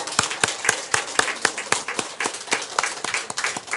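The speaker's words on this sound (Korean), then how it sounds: "박수 한번 칩시다." Church congregation applauding during a Korean sermon, a few seconds of steady, brisk clapping from a modest gathering in a room, fairly close and without speech.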